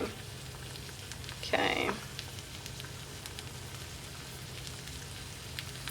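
An egg frying in a pan, a soft continuous sizzle running steadily throughout with a brief louder crackle burst midway; a voice speaks a single short word.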